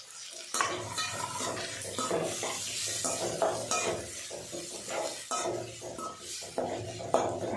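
Onions sizzle in a hot pan for dried fish thokku while a spoon stirs and clinks against the metal in repeated bursts, close and busy throughout.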